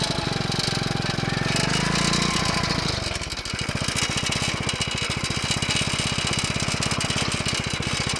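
A bike-engine cultivator runs in gear, its small engine chugging loud and close with a steady rapid putter that dips briefly then resumes a fast, even rhythm throughout.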